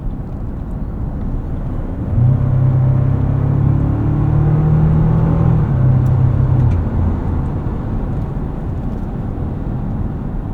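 Engine of a 2024 Toyota Tacoma Limited with the i-FORCE Max powertrain pulling hard under acceleration, a steady low rumble that swells for several seconds mid-clip and then eases back, heard from inside the cab with no talking.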